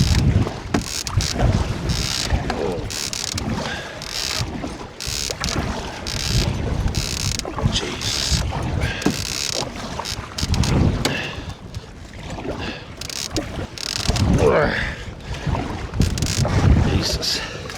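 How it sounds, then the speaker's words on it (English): Fierce wind roars and buffets a microphone on a solo winter canoe trip, gusting loudly and continuously throughout with rumbling low-end blasts, water and boat sounds mixed in. "Because that wind is fierce."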